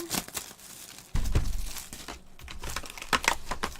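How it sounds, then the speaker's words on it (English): Cardboard and plastic wrapping of a trading card booster box being opened up close, with crinkling, tearing and scratchy handling noises, quiet and irregular, including a louder thump partway through. "Let's see if I can get the box open."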